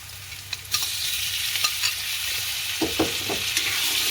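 Onions frying in a pan and being stirred until golden, with a steady loud sizzle broken by scraping strokes and a few clinks of the utensil against the pan, close by.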